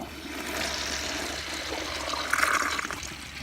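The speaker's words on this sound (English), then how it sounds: "here's the flush once the tank's full" An American Standard Allbrook toilet flushes under low water pressure, a steady close rush of water through the bowl that swells slightly near the end and carries on without voices.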